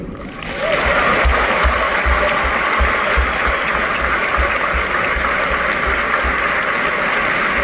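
Applause from a graduation audience rises quickly and holds as a steady, dense wash of clapping throughout, with a faint low rhythmic thumping running underneath.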